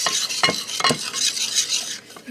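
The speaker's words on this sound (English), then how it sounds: "Use my dough mixer here" A dough mixer works pumpkin cookie dough in a bowl, making rhythmic scraping and knocking strokes about every half second, close and fairly loud, with no voices.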